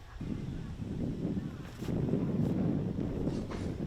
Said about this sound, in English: that leading most edge of that tropical storm beginning to cause the winds to really swirl here at Cedar Rock Park